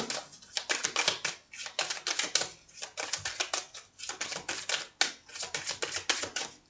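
Tarot cards are shuffled and drawn in quick, crisp bursts of riffling and flicking, close and fairly soft, repeating in clusters with short pauses between them.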